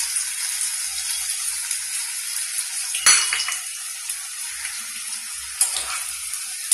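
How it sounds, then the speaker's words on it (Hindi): Onion pakora deep frying in hot oil gives a steady, bright sizzling hiss throughout, with a couple of sharper crackling surges partway through. "यहाँ पर अब हम इसे डीप फ्राई करेंगे, जैसे ये खस्ते हो जाए"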